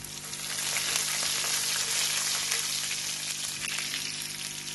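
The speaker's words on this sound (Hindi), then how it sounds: "ये थोड़ा सा कड़कड़ाऊंगी, ये लहसुन शामिल कर दूंगी" Cumin and garlic sizzle and crackle steadily in hot oil in a pan, a loud, continuous frying hiss with no break.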